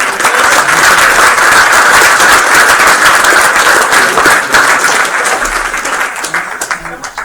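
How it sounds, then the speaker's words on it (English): Audience at a board meeting breaks into a big round of applause, dense sustained clapping that stays loud and steady for several seconds before thinning out toward the end. "So a big round of applause for Paul and Bentley."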